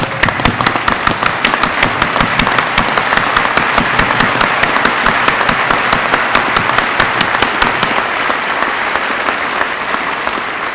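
A crowd at a police promotion ceremony gives a loud, sustained round of applause, with many hands clapping in quick, dense bursts and steady rhythmic claps running through the whole stretch.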